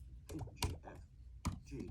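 Quick typing on an M1 MacBook Pro keyboard, with soft close-up clicks in a brisk uneven rhythm and a few sharper taps standing out, heard alone in a quiet room.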